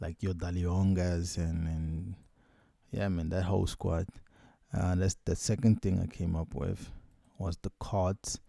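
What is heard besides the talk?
None of the usual background noises is heard.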